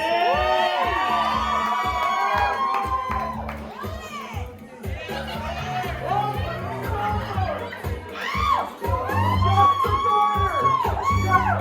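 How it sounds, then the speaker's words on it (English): Wedding guests cheering and shouting during a reception, a lively crowd with excited whoops and high-pitched voices rising and falling over several seconds, with overlapping chatter throughout. "Cheer him on."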